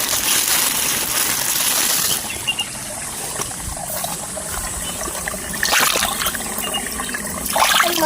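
Water runs and trickles steadily while fruit is washed outdoors in a village. The sound is continuous and close, with a few splashy surges.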